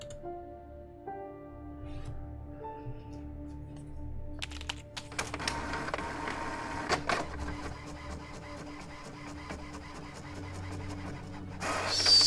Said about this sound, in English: Such printer noises.